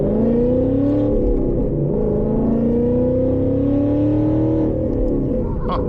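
Ford Mustang fitted with a Borla ATAK exhaust, running loud and steady nearby with a deep, continuous rumble and a slowly rising and falling engine note, no talking over it.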